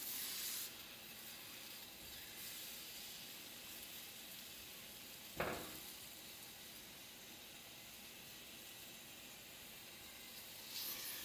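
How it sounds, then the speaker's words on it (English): Tomatoes sizzle on a hot cast iron skillet with a steady, broad hiss that holds evenly for several seconds, broken once by a brief sharp crackle near the middle, with no talking. "They might sizzle a little bit when you put them on."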